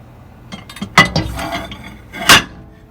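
A glass dish clinks and knocks against a hard surface a few times as it is put into a microwave, with a sharp clink near the end, close by and fairly loud.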